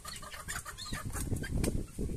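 A chicken clucks repeatedly close by in a short run of throaty calls, fairly quiet against the outdoor background.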